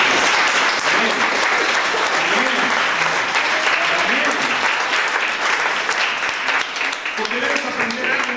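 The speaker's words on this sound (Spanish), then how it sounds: "Den un aplauso al Cordero." Steady, dense applause from a church congregation fills the room for the whole stretch, with scattered voices rising underneath the clapping.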